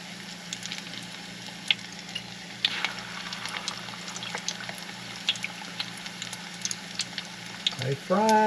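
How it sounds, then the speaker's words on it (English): Steady crackling sizzle of green tomatoes frying in hot grease, with scattered pops and spatters throughout and a brief louder disturbance near the end. "They frying up for sure. Of course, that's what you'd expect in that hot grease"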